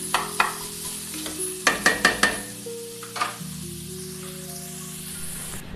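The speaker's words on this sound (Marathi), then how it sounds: "व्यवस्थित 1-2-3 मिनिटं तरी व्यवस्थित त्याला कांद्याला शिजू द्यायचं आतमध्ये" Onion fries and is stirred in a pan, with a steady background sizzle under a series of sharp, close scrapes and knocks of the spoon against the pan, then continued frying with no talking.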